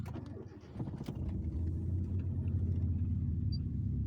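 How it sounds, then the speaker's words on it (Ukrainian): A Hyundai Getz about fifteen years old starts up: a brief cranking burst, then the engine settles into a steady low idle rumble close by, with no talk over it. "Машинка заводиться як годинник"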